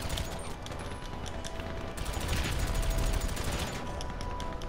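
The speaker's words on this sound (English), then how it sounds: "I'm going with the MG now" Rapid machine gun fire from an MG in GTA 5, a dense run of repeated shots over constant gameplay noise, growing a little louder toward the middle with no voices heard.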